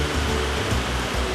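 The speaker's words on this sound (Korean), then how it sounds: "낙수 소리가 정말 웅장하게 들립니다." Huangguoshu waterfall in China, a loud, dense roar of falling water, broad and continuous with no pauses.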